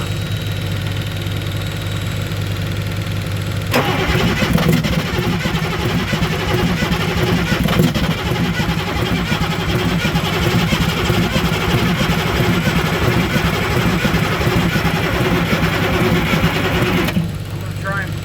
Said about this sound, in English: Eventually what's going to happen is we crank enough, the engine's going to start to warm up and the glow plugs won't be a factor anymore.